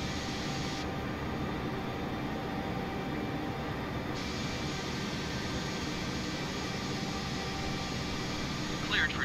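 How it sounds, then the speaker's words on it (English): An Airbus airliner takes off from runway 14 at Kochi Ryoma Airport, bound for Hiroshima, as a steady, even engine roar that holds throughout, with a voice speaking at times. "Airbus Juliet Alpha 5150 cleared for takeoff runway 14."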